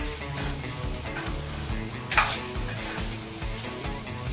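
Sabudana is stirred in a pan with a soft, steady scraping and light sizzle, broken by one sharper clank of the utensil midway, close and without talk.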